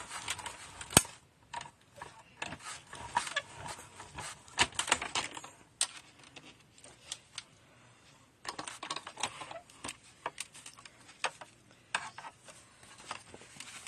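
A die cutting machine cutting a hole in card for a Z fold card, a long run of rapid mechanical clicks and ratcheting ticks, close and moderately loud, pausing briefly midway before resuming, no talking.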